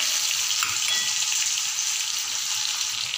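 Onions fry with curry leaves in hot oil, giving a continuous, bright, hissing sizzle that stays loud and even throughout, with no voices.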